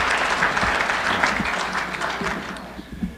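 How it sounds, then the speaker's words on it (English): Audience applause at a winter environmental lecture, a steady wash of clapping from a room full of people that starts full and gradually thins toward the end. "Will you join me in recognizing them with a round of applause?"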